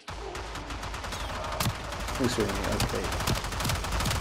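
Enemy gunfire in the shooter game Warframe comes as sustained rapid bursts of shots and impacts. It runs loud throughout, with a brief spoken word over it.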